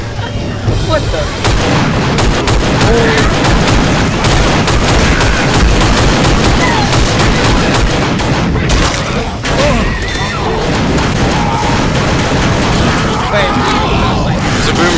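Dense, continuous gunfire and explosive booms from the zombie shooter Left 4 Dead, loud and nearly unbroken for the whole stretch, with players' voices mixed in over the shooting.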